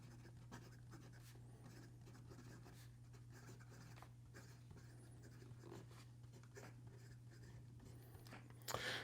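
Fountain pen with a medium Jowo nib writing on paper, a faint continuous scratching and rubbing under a steady low hum, close and quiet with no talk.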